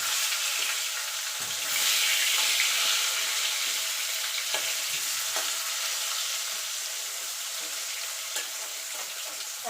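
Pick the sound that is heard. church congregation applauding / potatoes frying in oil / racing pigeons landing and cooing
potatoes frying in oil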